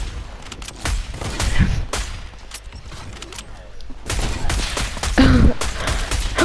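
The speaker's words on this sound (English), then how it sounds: "Why are you shooting?" Bursts of video game gunfire crackle through a shooter match in several volleys, loud and close, with a heavier cluster near the end, while players' voices and gasps come through over the shooting.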